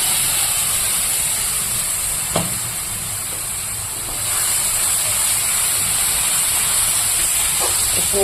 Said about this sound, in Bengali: এবার এই তেলে আমি দিয়ে দেব করা মশলা